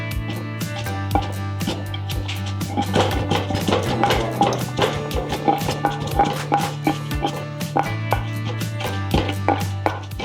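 Fried mint and coriander leaves are pounded in a mortar for a spice powder, a run of sharp, close thuds at an uneven rhythm over a low steady hum.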